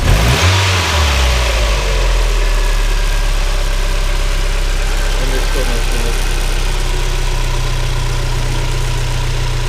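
A 1993 Mazda Miata 1.8 engine revs up sharply at the start, then settles into a steady, loud idle with a low rumbling drone close by.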